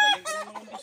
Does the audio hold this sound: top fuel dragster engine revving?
no